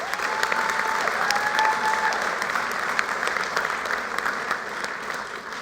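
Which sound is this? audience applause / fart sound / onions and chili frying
audience applause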